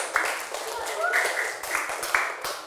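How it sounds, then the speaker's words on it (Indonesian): Students clapping in a classroom for a presenting group, a short scattered round of claps mixed with children's chatter and a teacher's voice. "tepuk tangan untuk kelompok 4"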